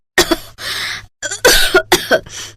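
A woman coughs in several harsh, close bursts, broken by short pauses, with a faint low hum beneath.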